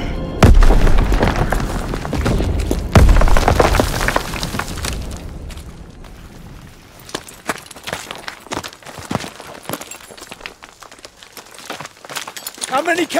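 A heavy, loud boom opens a Call of Duty WWII battle on Hill 493, followed by a rumbling blast, then scattered impacts, footsteps and battlefield noise under shouting voices.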